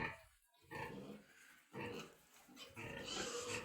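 Low pig grunts and snorts come in a few separate bursts, close by, with short quiet gaps between them.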